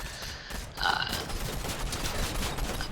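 Gunfire from a Fortnite Zero Build Reload match: a burst of several rapid shots, followed by a continuous busy rattle of game sound effects. The shooting is moderately loud and fairly distant-sounding, and there is no speech.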